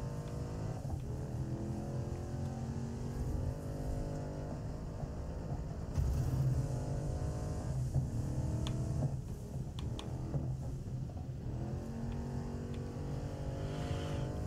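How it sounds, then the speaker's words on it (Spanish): A racing car's engine and exhaust in Dirt 5 on Xbox Series S rev and drone steadily, rising and falling through gear changes with a rough exhaust note. "¿Cómo suena el caño de escape?"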